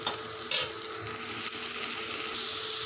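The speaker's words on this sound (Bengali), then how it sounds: "একটু নেড়ে দেবো ভালো করে এখন আর একটু ভাজা হবে যেহেতু রসুনটা আছে" Garlic and spice paste fry in a pan with a soft, continuous sizzle and an occasional stir, fairly quiet and steady.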